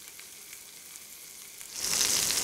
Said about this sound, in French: On le laisse bien saisir, on veut qu'il soit bien grillé.